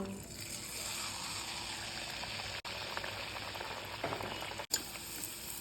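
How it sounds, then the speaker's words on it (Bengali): Puri deep-frying in hot oil gives off a dense, steady bubbling hiss, close and continuous, with two abrupt brief dropouts and a small splash near the end. "এবার আমি পুরিটা ভেজে নেব"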